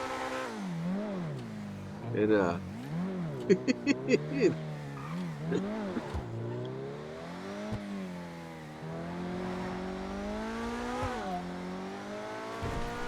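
A Coquette D10 sports car in GTA Online revs and accelerates, its engine pitch climbing and dipping through repeated gear changes, with brief tire chirps near the start and a voice speaking briefly.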